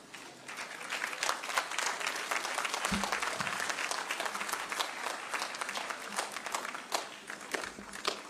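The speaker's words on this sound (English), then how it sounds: "Let us all rise and welcome His Excellency with a clap." Graduation ceremony audience rising to clap for a dignitary, sustained dense applause from a large hall, steady and moderately distant, with a brief thump partway through.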